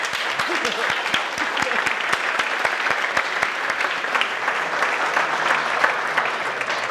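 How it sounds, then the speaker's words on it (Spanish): An audience gives a sustained, even round of applause, many hands clapping at once with a few crisp claps standing out close by, holding steady without pause. "Un aplauso para Yussi, señores, vamos."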